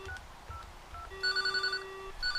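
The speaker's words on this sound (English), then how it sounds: "You get the incoming ring from into the phone." An incoming call rings a field telephone on lines run through an LP10 Polish switchboard: short tonal chirps, then about a second of loud, rapidly pulsing ring, close and clear with nobody talking.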